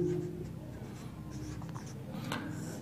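Chalk or a marker scratches across a classroom board in short strokes, heard close and alone at moderate level.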